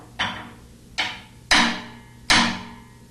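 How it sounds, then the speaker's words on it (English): Four sharp metallic hammer taps strike a hex wrench tool seated on a top-load washer's inner tub seal, spaced irregularly, each ringing briefly then decaying, close and fairly loud with no voices. "tap the tool with a hammer to force the upper half of the inner tub seal down"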